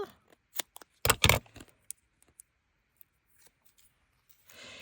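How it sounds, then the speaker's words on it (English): Scissors make a few crisp snips trimming craft foam for a holiday shaker card, a loud cluster of close cuts followed by scattered faint clicks and rustles in a quiet room. "And I just need to give that a little bit of a trim."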